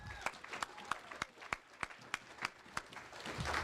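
Scattered clapping at a varsity football banquet honoring the state champion team, individual sharp claps spaced out and fairly faint, swelling into fuller applause at the end.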